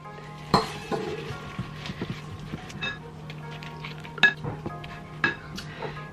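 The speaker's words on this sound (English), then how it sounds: "So I'm gonna throw in the rest of these goodies and mix it all up." Vegan, gluten-free breakfast muffin batter is stirred in a bowl, with scraping and soft stirring punctuated by several sharp clinks of a utensil against the bowl, close and fairly quiet.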